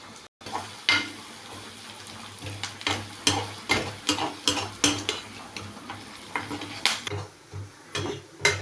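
Crushed garlic cloves frying in hot oil for salt chicken, with a steady sizzle punctuated by repeated stirring and utensil scrapes against the pan, close and clear with no talking.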